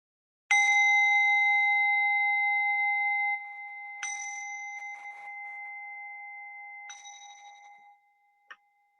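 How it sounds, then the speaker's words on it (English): A meditation bell struck three times, each a clear ringing tone with long sustained overtones that slowly decay in a quiet room, with the third strike softer, followed by a brief faint tap near the end. "I'm just going to ring the bell"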